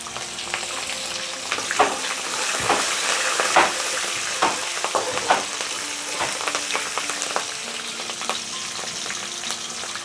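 Three or four medium-sized green chillies fry in hot oil for North Karnataka girmit, giving a steady close sizzle peppered with sharp crackles and pops, with no talking.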